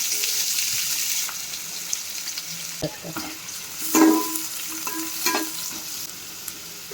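Four medium onions fry with bay leaves in hot oil in a pot for chicken pulao. A steady, close sizzle carries throughout, with occasional clatters and scraping stirs rising above it.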